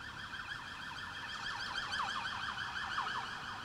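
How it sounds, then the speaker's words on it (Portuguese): A Brazilian Federal Police vehicle siren wails with a rapid, repeating up-and-down sweep, moderately distant and swelling slightly as it passes, with no talk over it. "Ainda há pouco tinha uma viatura da Polícia Federal, inclusive vai passar por aqui"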